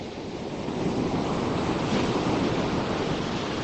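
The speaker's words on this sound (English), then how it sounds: "some nice waves coming in." Sea waves surging onto a beach on England's south coast at sunset, a steady loud wash of surf building and holding throughout, with some wind noise on the microphone.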